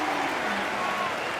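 A basketball crowd at a Valhalla League game roars and applauds after a double-clutch dunk. The cheering is a dense, sustained wash, and a commentator talks over it.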